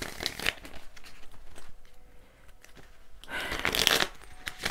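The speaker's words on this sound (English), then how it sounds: "I might pull an astrology card first." Astrology cards shuffle in quick papery riffles, a loud burst at the start and another near the end with softer handling rustles between, close by and quiet overall.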